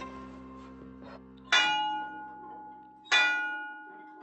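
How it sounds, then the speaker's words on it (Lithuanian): Gold-plated bell struck twice, each ring a bright metallic clang with a long shimmering decay, the two strikes about a second and a half apart over a sustained background tone. "Tai čia, Fede, tas tavo auksu dengtas varpas? Skambėjo kaip auksinis."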